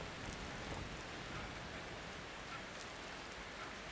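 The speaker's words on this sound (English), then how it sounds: "Blood rain still falls." Steady, dense rain of blood pours down in the video game Outlast II, a constant close hiss of falling drops with no breaks and no voices over it.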